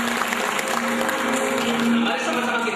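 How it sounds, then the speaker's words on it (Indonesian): A crowd at a religious talk claps steadily in a dense, continuous wash of applause, with a faint voice or tone running beneath the noise. "Tepuk tangan dulu semua."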